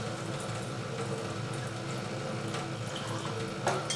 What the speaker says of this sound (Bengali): এবার পরিমাণ মতো এতে জল দিয়ে দিচ্ছি।